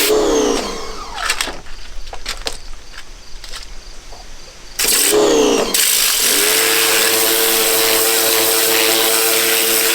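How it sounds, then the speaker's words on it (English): Pressure washer spraying out a dirty hydroponic tower clogged with gunk and roots, a loud steady hiss and rush that starts mid-clip and runs continuously, preceded by quieter intermittent outdoor noise with crickets. "the hose is plugged into the pressure washer"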